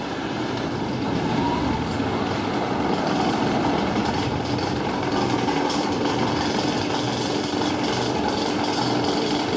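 A Prowler wooden roller coaster at Worlds of Fun, a loud continuous rumbling roar of wheels on wooden track, steady and close throughout with no talk.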